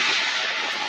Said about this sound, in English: Embraer E175 coming down taxiway Kilo at SDF.